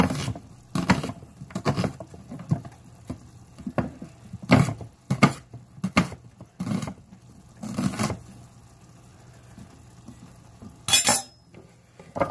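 A kitchen knife roughly slices onions on a cutting board, giving a dozen or so irregular, close knocks of blade on board separated by short quiet pauses.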